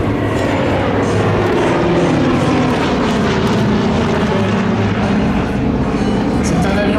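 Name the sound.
Douglas DC-3 propeller airplane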